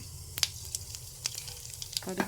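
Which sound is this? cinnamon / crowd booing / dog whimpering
cinnamon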